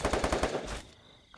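Video game gunfire crackles in a quick burst of about six rapid shots, then drops to near silence before one final sharp report.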